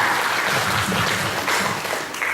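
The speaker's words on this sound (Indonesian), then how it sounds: "Kita kasih tepuk tangan dulu buat pembicara kita yang luar biasa." A seminar audience applauds its speakers, a loud, dense and continuous clapping from a large crowd that fills the whole moment evenly.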